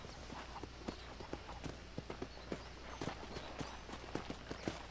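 Horse hooves clip-clop at a steady walking pace in the Red Dead Redemption video game, a regular string of soft, close knocks over a constant outdoor ambient hiss with no talking.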